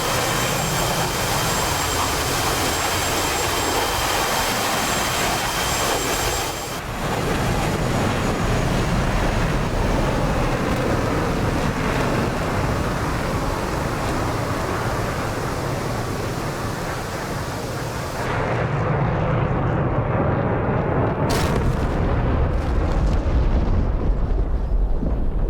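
In the DCS flight simulator game, an F/A-18C jet's engine roars steadily through a cockpit, with a bomb blast thudding in as broad rumbling noise. The sound cuts off abruptly near the end.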